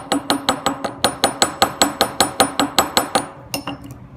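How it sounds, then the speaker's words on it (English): Hammer texturing bent wire: a rapid, steady series of sharp metallic taps, about four per second, close and ringing, slowing and softening at the end. "I can also do things like adding texture to it with the other side of my hammer"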